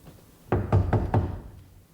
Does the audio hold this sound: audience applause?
no